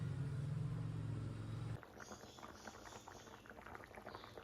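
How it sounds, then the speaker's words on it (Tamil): A pot of masala sambar with vegetables bubbles quietly, low and close, with soft irregular blips after a steady hum stops partway through. "சாம்பார் கொதிக்கட்டும்."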